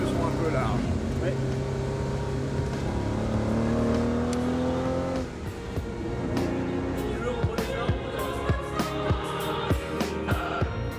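A Ferrari 275 GTB/C with Pininfarina bodywork at the Tour Auto 2007 historic road rally. Its engine hums with a sustained rising drone, then eases into a rougher, pulsing rumble with a series of sharp bursts, while people talk over it.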